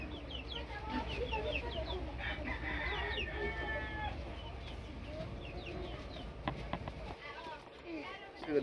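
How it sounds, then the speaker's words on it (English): Chickens and a rooster cluck and crow from a neighbouring yard beside a beach house in the Philippines, a busy, continuous layer of fowl calls at moderate distance with scattered knocks near the end. "Chickens next door."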